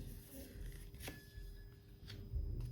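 Tarot cards are shuffled and drawn by hand, making soft, close riffling and sliding sounds in quiet bursts over a faint background hum.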